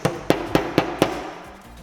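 A hammer strikes five times in an even rhythm, each blow sharp and close, followed by a fading ring and quiet room tone.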